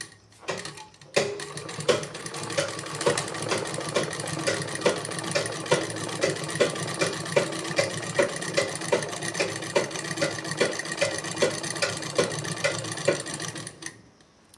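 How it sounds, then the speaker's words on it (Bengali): A woman stitches on a sewing machine, which runs in a long steady mechanical whir with a rapid, regular ticking rhythm for over ten seconds before it stops, close and fairly loud with no talk over it. "তো মেয়েটা সেলাই করছে"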